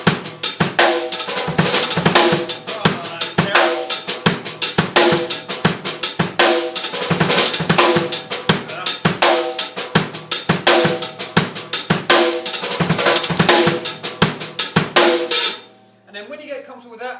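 Drum kit playing a linear groove laced with 32nd-note double-stroke rolls, dense rapid hits with cymbals, loud and close, running steadily for about fifteen seconds before stopping abruptly into a brief decay.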